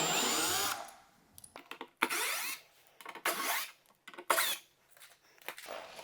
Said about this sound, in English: finish drilling all the way through